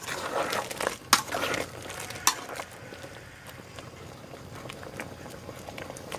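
Frog curry with luffa simmers in a pot, giving a soft, steady bubbling with a few brief crinkly bursts near the start before settling into a quieter boil.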